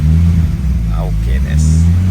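Engine of a Nissan Gloria running with a steady low rumble close by, idling slightly unevenly with mild revving swells, while people talk over it.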